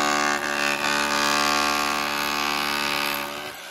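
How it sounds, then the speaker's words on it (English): A drill machine used as a jackhammer on a ring well gives a loud, continuous mechanical drone with strong tonal harmonics and slight pulsing, heard up close with no voices. "They're using drill machine as jackhammer."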